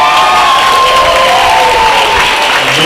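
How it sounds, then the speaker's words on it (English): A school audience applauds loudly and continuously at a student performance, with cheers and whoops mixed into the clapping throughout. "I want to make sure I have applause for his MCs over here"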